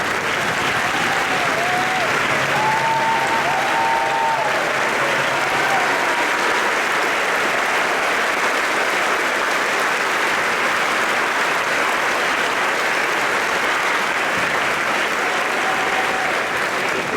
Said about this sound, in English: let's give them a standing ovation to show our appreciation